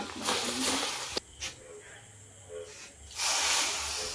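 Milk hits semolina in a hot pan with two loud sizzling hisses, one at the opening and a stronger one near the end, separated by quieter bubbling while someone talks.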